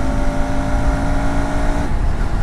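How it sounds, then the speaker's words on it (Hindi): A KTM Adventure 390 motorcycle idles in stalled traffic and takes small blips of throttle, giving a loud, steady, humming exhaust drone that cuts off sharply near the end. "जब आप ट्रैफिक में, स्टॉल ट्रैफिक में जब आप इसको थोड़ा सा थ्रॉटल वगैरह करते हो, बहुत बेहतरीन अंडरवेल एग्जॉस्ट जो है वो आपको सुनता है।"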